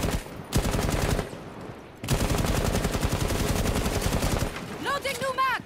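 Automatic gunfire in a CS:GO and Rainbow Six Siege crossover game: two long, loud, rapid-fire bursts separated by a brief pause, with a voice exclaiming at the end.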